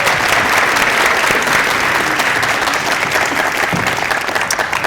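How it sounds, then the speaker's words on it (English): A school audience applauds a beginning band after a demo-night performance, with dense, steady clapping that fills the space loudly from start to finish. "Have a big round of applause for beginning band."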